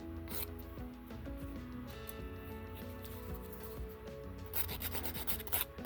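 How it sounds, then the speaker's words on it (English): A nail file rubs back and forth across the free edge of a fingernail during removal of nail enhancements, a quiet, close scratchy rasping in short irregular strokes that grows a bit louder toward the end. "now I'm just going to file the free edge here a little bit just to smooth that out"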